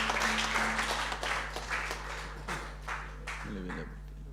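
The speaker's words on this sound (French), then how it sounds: "nous pouvons encore applaudir la chorale des hommes" Church congregation applauding a men's choir, a fairly faint, scattered clapping that fades over a few seconds, with brief voices mixed in.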